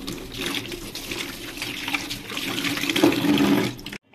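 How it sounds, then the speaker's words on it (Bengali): Clothes hand-washed with running water at home, a steady splashing and trickling flow with sloshing bursts that swell toward the end before stopping abruptly. "হাতেই কেচে নেবো সমস্ত।"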